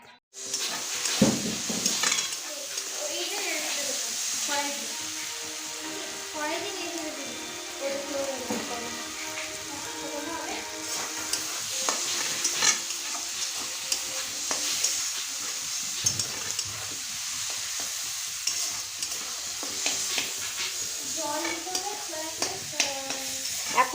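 Pasta with vegetables, beans and carrots sizzles steadily in a frying pan while being stirred, with occasional utensil scrapes, close and continuous under some light background music.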